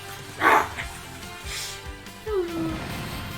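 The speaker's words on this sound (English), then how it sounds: "Bark." A short bark-like yelp from a video game dog character in Super Robot Wars T, one bright burst near the start followed by softer game sounds and a low tonal sweep, with no talking.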